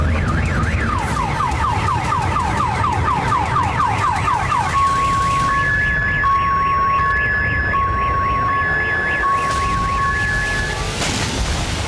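Security alarms on parked cars in Crimea blare after an explosion, one cycling rapidly up and down before switching to steady alternating tones, others overlapping in the distance, loud and continuous against a rumbling background.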